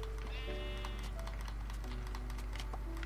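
Sheep bleating in a snowy survival video game, a wavering cry heard once fairly clearly over steady background music and clicking keys, with a constant low hum underneath.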